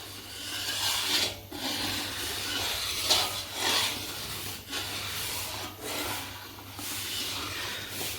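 Milk badam mixture being stirred in a pot gives steady scraping and rubbing strokes, a few rising louder, repeating through the clip over a low steady hum, with no voices.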